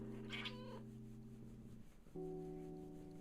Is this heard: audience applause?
no